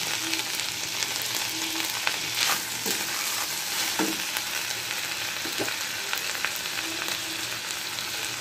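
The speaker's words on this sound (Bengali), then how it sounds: "হালকা বাদামি করে এর মধ্যে দিয়ে দিলাম 4 চামচের 1 চামচ আদা পেস্ট।" Ginger paste fries in a pan with lightly browned ingredients, giving a steady soft sizzle broken by the clicks and scrapes of a spoon stirring, close and fairly quiet with no talking.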